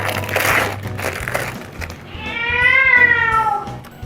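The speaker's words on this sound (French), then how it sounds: "Si vous entendez miaulement, c'est mon chat" A cat meows loudly and close by, a drawn-out rising and falling cry near the end, following earlier rustling and faint household noise.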